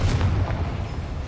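A Confringo spell explosion in Hogwarts Legacy, a heavy booming blast with a rumbling low-end roar that fills the short moment without fading.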